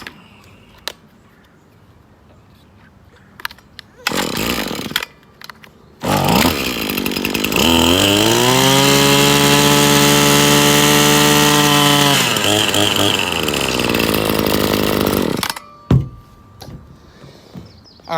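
Husqvarna 525L string trimmer engine revs up loudly and unevenly, sputtering and surging before holding a high, strained whine for several seconds, then cutting back to a rough idle with brief bursts.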